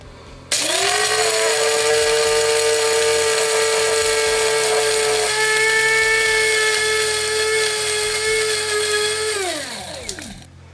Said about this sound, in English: we're going to grind it down to a fine powder.